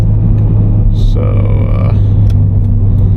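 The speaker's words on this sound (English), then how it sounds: "I wanted to do a little POV with this new muffler delete." Low, steady exhaust drone from a Scion FRS fitted with a Berk muffler delete while driving, a constant close rumble throughout, with someone briefly speaking over it.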